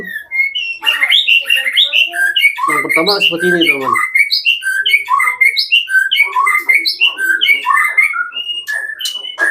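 A white-rumped shama sings a rich, varied stream of whistles, chirps and rapid trills, loud and close, with a voice briefly speaking over it.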